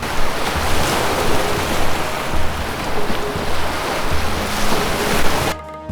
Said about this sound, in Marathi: किनाऱ्यावरच्या वाळूतून समुद्राची गाज ऐकत चालण्याची एक वेगळीच मजा असते